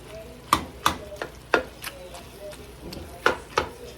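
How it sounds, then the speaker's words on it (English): Kale soup with garlic being stirred in a pot, a series of distinct knocks and scrapes of a spoon against the pot, roughly a dozen uneven strokes over a faint background hiss. "And so we'll just mix that through and kind of break it down."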